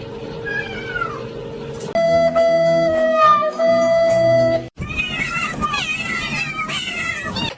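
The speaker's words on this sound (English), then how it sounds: "Sorry, my cat." A pet cat meows repeatedly, loud and close, with drawn-out crying meows in several bursts and brief voices in between.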